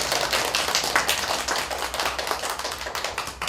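Schoolchildren applaud together at a school visit, a dense, steady patter of many small hands clapping at close range, with no voices over it.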